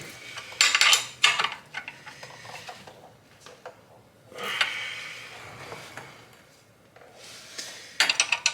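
Wrench work tightens wheel bearing bolts on a Volkswagen/Audi MQB car, with irregular metallic clicks, ratcheting and clinks in scattered bursts and quieter pauses between.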